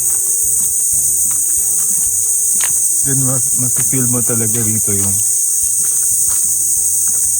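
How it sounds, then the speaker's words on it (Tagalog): A steady, high-pitched chorus of crickets trills continuously at night at a forest farm resort, with a person speaking briefly partway through. "maraming crickets na naririnig"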